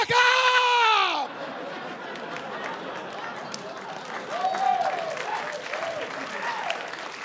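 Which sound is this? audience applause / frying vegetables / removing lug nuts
audience applause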